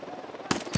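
Gunfire in Ghost Recon Wildlands: a low rumbling backdrop broken by a sharp, loud shot and then a second report close behind, abrupt and near.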